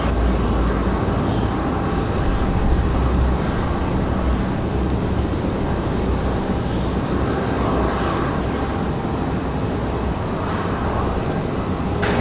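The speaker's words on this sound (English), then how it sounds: "We've got Copa 466. 3 hours and 56 minutes of flight time for the MAX 9 here." Copa Airlines Boeing 737 MAX 9 jet engines roar loud and close in windy conditions at Raleigh-Durham, a continuous broadband rumble with no talking.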